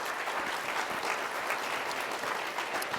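Audience applause at a seminar, a dense, even wash of many hands clapping steadily throughout, fairly close and unbroken, with no talk over it.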